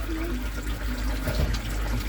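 Pond water flows steadily through a 32mm pipe into a pond filter, a close, continuous gushing and trickling wash with a low hum underneath.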